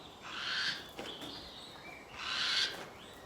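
Burrowing owls give two drawn-out, raspy calls about two seconds apart, nearby and fairly loud, over a soft outdoor background hiss.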